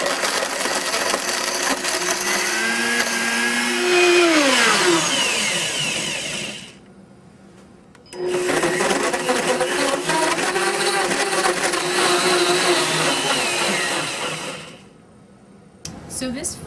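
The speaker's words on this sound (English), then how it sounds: "So this first Blendtec pitcher and blade did not do a good job with the orange and ice." A Blendtec blender crushing an orange and ice runs loudly with a grinding, churning whir, stops briefly, then starts again and runs steadily before cutting off; a voice talks over it.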